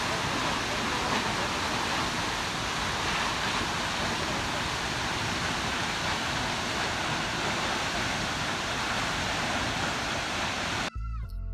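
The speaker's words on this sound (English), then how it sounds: "You can see the waterfall crashing down." A powerful waterfall in Yosemite crashing down, a loud, dense, unbroken roar of falling water filling the whole scene, cutting off abruptly at the end.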